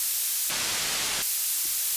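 Hydrasynth synthesizer noise oscillator set to red noise, a dark, damped hiss that swells in for under a second between quieter stretches of steady static.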